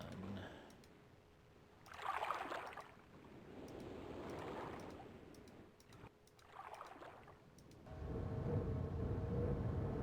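Soft, hollow wind gusts swell and fade in a few slow waves in the game Myst, faint and airy, rising to a steadier rushing wash near the end.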